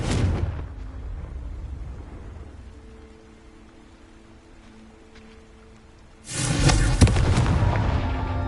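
A fiery Confringo blast goes off in Hogwarts Legacy, a loud broadband explosion bursting in near the end after a quieter stretch of low rumble and droning ambience.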